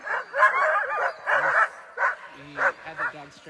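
Sled dogs in Willow, Alaska bark, yip and whine in short repeated bursts before a race start, fairly close and excited, with uneven gaps between the calls.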